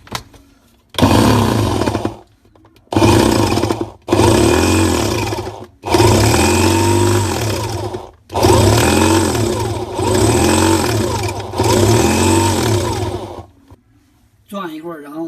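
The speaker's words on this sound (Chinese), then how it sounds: "这个钻头我们用个6毫米的钻头" An electric hand drill fitted with a 6 mm bit grinds into a stuck, rusted screw in loud repeated bursts, each several seconds long with short pauses between, the motor whining and the pitch wavering as the bit bites.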